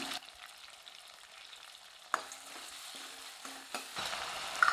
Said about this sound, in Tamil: இதையும் சேர்த்து நல்லா வதக்கி விட்டுக்கலாம்